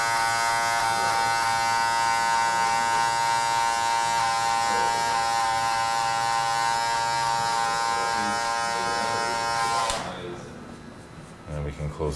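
An electric hair clipper buzzes steadily and close while cutting a high fade, holding a dense droning hum for about ten seconds before switching off, followed by faint handling noises.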